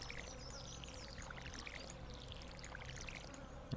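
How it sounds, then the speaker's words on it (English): Crops being watered in the farming video game Stardew Valley: a continuous splashing pour of water over several seconds, steady and fairly close, with no talk. "Now we water it all."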